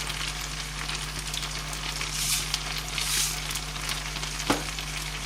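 Potatoes fry in a pan with a steady, close sizzle and crackle, a few brief louder pops and scrapes breaking through the continuous hiss, with no one talking.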